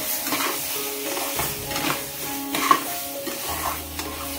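Semolina halwa (shira) being stirred with mango pulp in a pan, with a steady scraping stir, soft sizzling and occasional light clinks of the spoon against the pot, heard close up with no talking.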